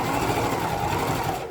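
A sewing machine back stitches over a handbag seam, running in one close, continuous whirring burst that eases off at the very end, with no voices.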